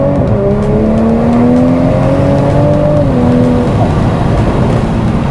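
A Toyota GR Supra's engine in Sport mode hums steadily from inside the cabin, its tone rising and shifting as the car drives along, loud and continuous with no talking.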